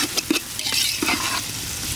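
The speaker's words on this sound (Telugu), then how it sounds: "టమాటా వేసుకుని బాగా కలుపుకుందాం." Tomatoes tossed into frying onions for egg khuska, stirred in a pan: a continuous, close sizzle with quick, scraping stirs.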